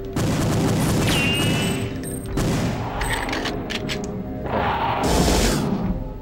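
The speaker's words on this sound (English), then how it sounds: "I don't know who is shooting at me here." Loud gunfire and heavy thumping booms in the shooter Perfect Dark, steady bursts running through the whole stretch with a sharp whistling tone early on and a bigger blast near the end.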